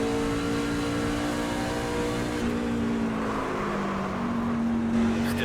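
Race car engine at a steady roar, dropping in pitch under heavy braking and then climbing again as the throttle reopens, loud and continuous throughout with no talk.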